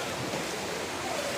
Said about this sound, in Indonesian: Air yang masuk ke Pekan Seruai. Ini air sungai langsung.